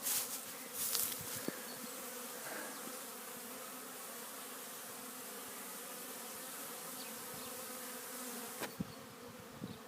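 A steady, dense hum of many bees fills an apiary in early spring, an unbroken drone with a few faint clicks and knocks.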